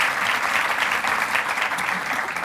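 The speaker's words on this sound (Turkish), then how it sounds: "Çocuğa gelsin bu alkış." An audience on a Turkish relationship-quiz show claps steadily in a dense, continuous round of applause that holds at an even level for the whole stretch, with no voices on top.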